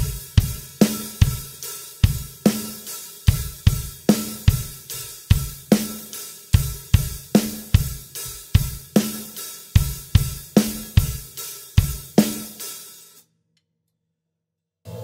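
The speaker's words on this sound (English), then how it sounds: "So our basic drum beat is this." Basic rock drum beat, with steady kicks, a snare backbeat and running cymbals played in an even groove for about thirteen seconds before stopping, with no talk.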